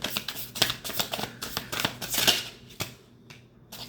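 Cards being shuffled in quick riffling bursts, crisp and close, with short pauses between the flurries and no voices.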